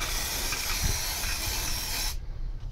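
Gunk degreaser sprayed from an aerosol can gives a steady, loud, close hiss for about two seconds, then cuts off abruptly into near silence.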